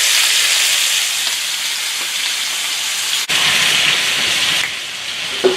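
Elk meat frying in a pan with garlic and butter, a loud, steady sizzling hiss that fills the whole stretch with only small dips, close up and without any talk.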